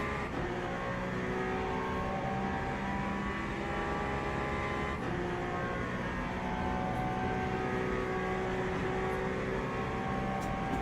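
Cadillac race car in Le Mans Ultimate, running at Spa in icy conditions: a continuous, loud engine drone with a steady pitch and gentle rises through gear changes, heard alone without any voices.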